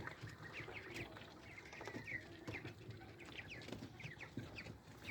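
Backyard chickens clucking and chirping together in a busy, continuous murmur of overlapping calls, fairly faint and at a middling distance, with no voices.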